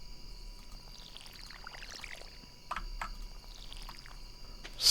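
Crops being watered in Stardew Valley with a watering can: soft splashing water sounds, a few brief pours with sharper splashes around the middle, under quiet game background music.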